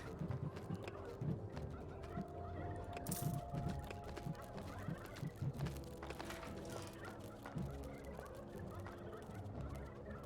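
Gobbler creatures in the Dungeons 3 dungeon-management game, a steady chorus of turkey-like gobbling and clucking mixed with clip-clop footsteps, moderately loud throughout.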